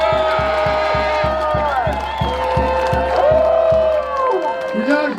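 Crowd at a street protest march in Montreal, shouting and cheering together in a loud, sustained roar with a steady rhythmic pounding beat underneath.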